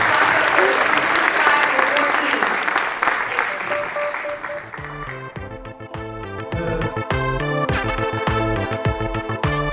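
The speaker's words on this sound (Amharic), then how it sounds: "ጭብጨባችሁ ግን ያንሳል፣ በጣም ያንሳል" Audience at an awards ceremony in Washington DC applauding, first a dense, steady crowd clapping that gives way to rhythmic music as the applause continues beneath; a voice speaks over it.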